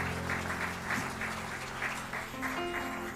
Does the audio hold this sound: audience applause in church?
yes